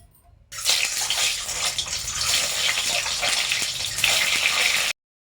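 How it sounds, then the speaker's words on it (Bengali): Eggs dropped one by one into smoking-hot oil fry with a loud, steady hiss and crackle that starts abruptly and carries on without pause, close by and with no talking. "এবার এক এক করে আমরা ডিমগুলোকে ছেড়ে দেবো ভেজে নেওয়ার জন্য"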